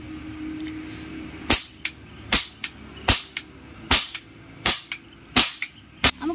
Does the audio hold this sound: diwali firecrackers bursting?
yes